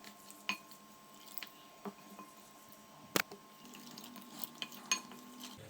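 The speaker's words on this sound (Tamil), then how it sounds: "கொஞ்சமாக தண்ணி சேர்த்து ஒரு திக்கு கன்சிஸ்டன்சி வர வரைக்கும் மிக்ஸ் பண்ணி விட்டுக்கோங்க" Spoon stirs a thick flour batter mixed with ginger-garlic paste and a little water for cauliflower manchurian, giving soft squishing and occasional clinks against the bowl, quiet and close with irregular taps.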